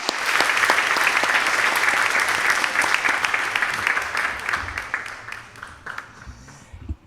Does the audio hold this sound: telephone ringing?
no